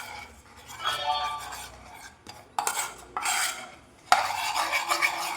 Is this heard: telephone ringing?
no